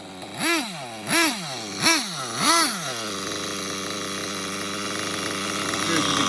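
An XTM Mammoth nitro RC monster truck engine warming up: four sharp, close revving bursts in quick succession, then it settles into a steady, buzzy idle.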